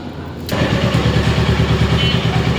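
Royal Enfield Meteor 350 Supernova motorcycle starting up inside a warehouse, the engine catching after a brief crank and settling into a loud, close, rhythmic single-cylinder thump.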